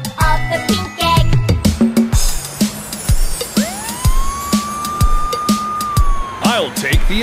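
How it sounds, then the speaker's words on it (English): A toy ambulance siren wails in a rising and falling electronic tone near the middle, loud and close, amid clicks and clatter, while a voice speaks and sings over it in a children's surprise egg play session. "Ambulance came out of the pink egg."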